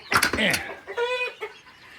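Chickens on a farm cluck in a few short bursts at close range, with a brief high squawk partway through and no speech.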